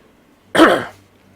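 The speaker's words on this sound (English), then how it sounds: "Hopefully I'm not blowing anybody's ears out by sneezing or coughing like that." One sharp, loud cough or throat-clearing burst lands right on a close microphone, peaking at once and fading within about half a second against near silence.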